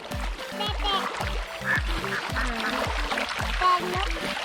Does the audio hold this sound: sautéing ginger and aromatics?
no